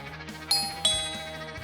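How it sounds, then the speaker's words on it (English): A doorbell chimes twice in quick succession, two bright ringing tones that linger and fade, fairly close in a quiet room. "when the doorbell rang."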